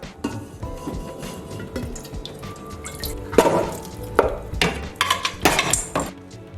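Cooked beef spooned into a large pot of Jamaican beef soup with pumpkin, with wet drips, splashes and metal utensil clinks against the pot in irregular bursts.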